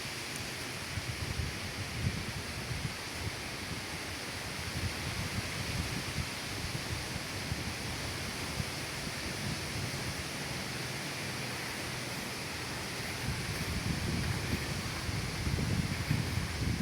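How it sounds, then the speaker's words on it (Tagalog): Strong wind roars and buffets against the microphone in a steady rumbling rush beside a fiberglass boat, swelling louder toward the end. "Lakas ng hangin dito."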